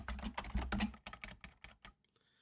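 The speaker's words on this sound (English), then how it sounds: "I wonder how my keyboard sound. If someone wants to comment on this, tell me if the keyboard is loud or not." Rapid key presses on a computer keyboard, a quick burst of sharp clicks that thins out into a few scattered taps and then stops.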